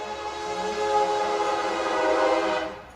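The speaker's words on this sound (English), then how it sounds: "I can see the train is going, so it's too loud" A passing train roars loud and steady nearby, its horn droning continuously throughout with no voices.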